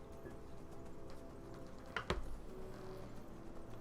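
Horse hooves clip-clopping while riding in Skyrim Anniversary Edition survival mode, a quiet, steady stream of hoof beats with one sharper thud midway, low in the mix.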